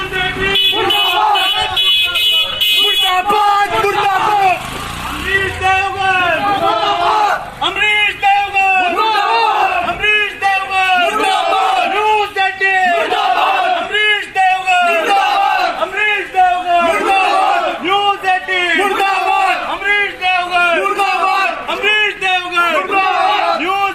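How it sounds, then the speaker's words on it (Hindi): A protest crowd outside an office chants "murdabad" slogans in a loud, steady rhythmic call-and-response that keeps going throughout, with a brief higher-pitched sound at the start. "मुर्दाबाद के नारे लगे हैं।"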